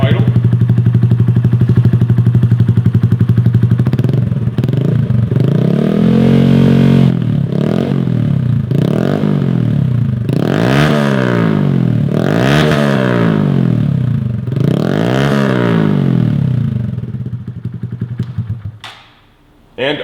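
A 2017 Honda Grom motorcycle fitted with a Hotbodies MGP exhaust idles loudly up close, then revs repeatedly in a series of rising and falling blips before settling and cutting off near the end.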